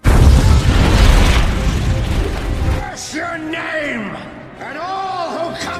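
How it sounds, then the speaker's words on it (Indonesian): A ship explodes in a film with a heavy, rumbling boom that fades, followed by shouting voices and wailing cries in the aftermath. "Di detik-detik kapal tersebut meledak dan karam ke dasar laut, Red Rakam mengutuk Sir Francis"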